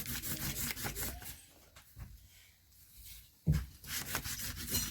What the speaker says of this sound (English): I'm going to go ahead and rub that out.